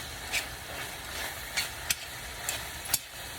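Cheeseburger Helper noodles with browning meat being stirred in a pan, a low sizzle underneath with about five distinct scraping sweeps of the spoon, close up, with no talking.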